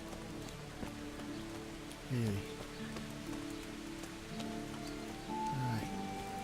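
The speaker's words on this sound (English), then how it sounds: "It's raining?" Rain falling in the video game Kingdom Come: Deliverance, a soft continuous patter on surfaces under a game soundscape with tonal swoops, while someone speaks briefly.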